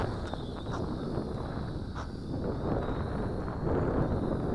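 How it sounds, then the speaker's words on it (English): Steady wind of about 5 to 10 knots roaring across an outdoor microphone during a Tarantula Spider 1505 drone test flight, a loud continuous rumbling buffet that swells slightly toward the end, with no talking. "And this is the wind, by the way, folks."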